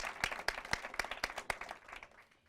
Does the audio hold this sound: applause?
yes